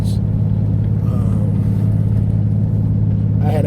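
Mitsubishi 3000GT SOHC with an aftermarket exhaust, a loud, throaty low idle rumble close by, with a faint brief pop or two at the edges.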